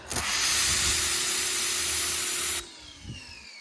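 A pressure washer fitted with a double nozzle sprays in a loud, steady hiss lasting about two and a half seconds, then cuts off sharply, leaving faint residual noise.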